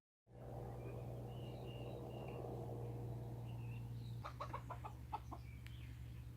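Farmyard chickens cluck in short, scattered bursts, fairly close, over a low steady hum, with the clucking growing busier toward the end; no one speaks.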